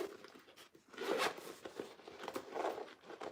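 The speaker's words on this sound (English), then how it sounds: "I'm going to unzip all my zippers" Several zippers on a small sewn bag are opened in quick succession, a series of short, close rasping pulls with brief pauses between them and no talking.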